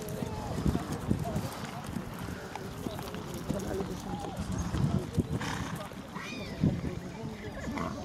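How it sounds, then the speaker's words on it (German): A horse trots through a dressage arena at working pace, its rhythmic hoofbeats close and steady under a continuous spoken voice giving riding instructions in German. "Im Arbeitstempo antraben, leicht traben."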